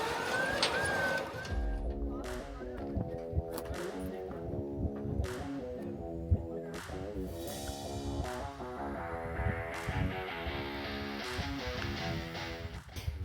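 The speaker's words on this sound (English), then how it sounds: "That fucking winch is badass" A vehicle-mounted winch pulls a vehicle onto a trailer, its steady mechanical drone with a ratcheting, pulsing texture running throughout alongside sharp periodic clanks and a rising whine toward the end.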